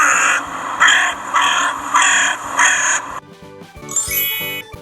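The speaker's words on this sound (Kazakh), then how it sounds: "crow" A crow caws five times in a harsh, evenly spaced series, loud and close, then the calls stop and a bright tinkling chime follows.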